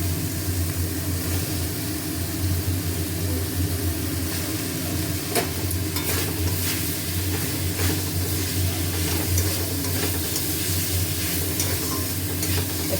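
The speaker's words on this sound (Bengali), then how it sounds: "মশলা থেকে তেল বেরিয়েছে এবারে দিচ্ছি লাউ" Chopped bottle gourd fries in spiced oil and is stirred, a loud, continuous sizzle with scraping clicks from the spoon clustered in the middle, and no talk.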